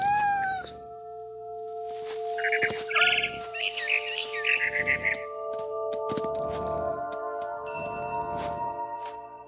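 A cat meows several times in the game What Remains of Edith Finch, with sustained electronic tones and scattered chiming clinks running throughout.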